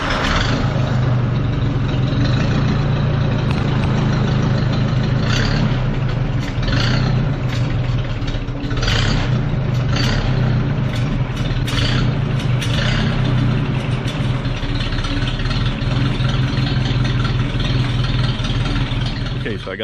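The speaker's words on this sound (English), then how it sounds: "got the old tractor full of gas. It's time to do some disking" An old farm tractor engine idles, a loud steady low rumble that runs throughout, with occasional rougher bursts of noise on top.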